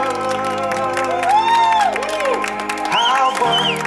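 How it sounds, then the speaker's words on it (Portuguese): Clapping and cheering from a group at a birthday celebration honoring a woman, with whoops and bright vocal or musical tones rising over the steady applause, close and fairly loud throughout. "Uma salva de palmas para nossa homenageada"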